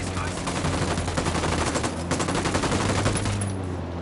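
Rapid automatic gunfire in a PS4 shooter runs as a continuous, loud, close volley of crackling shots over a steady low hum. A few faint voices sit underneath.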